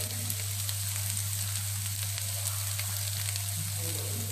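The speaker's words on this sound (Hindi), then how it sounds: "हम इसे अब पैन में डाल देते हैं और इसे थोड़ा भूनते हैं।" Chopped spinach sautés in a pan with a continuous, even frying sizzle. It is fairly close and steady throughout, with a constant low hum beneath it and no talking.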